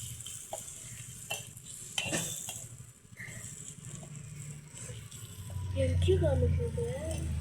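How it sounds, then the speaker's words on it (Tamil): A tomato curry is stirred in a pan, a soft scraping and sizzling texture running through the clip with a brief clatter near the start and a louder stretch of stirring toward the end; people talk in the background. "நான் கிண்டி விட்டுக்கிட்டு இருக்கேன்"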